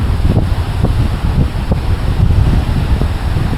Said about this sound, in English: It's actually crazy windy.